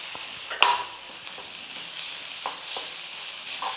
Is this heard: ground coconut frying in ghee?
yes